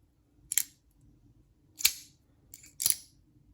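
Sharp clicks from the lock detent of a Tactis Gear folding knife, three crisp separate snaps spaced about a second apart, close and fairly quiet against near silence.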